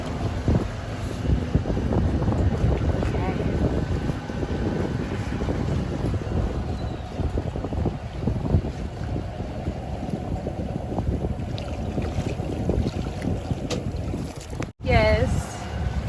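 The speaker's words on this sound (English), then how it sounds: "Look at my baby driving the boat." A motorboat runs across open water with a steady rumbling engine and heavy wind buffeting the microphone, while people talk over the noise and a brief dropout comes near the end.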